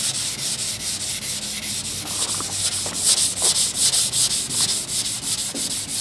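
Rhythmic hand sanding on the body of a 1963 Cadillac, a raspy scratching repeated in quick even strokes, close and steady with no talking.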